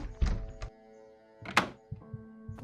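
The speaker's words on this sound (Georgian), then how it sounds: "ანუ შემიძლია გავაღო კარები პრინციპში" A few dull thunks and a sharper knock, like a door mechanism, with a faint steady hum in the background.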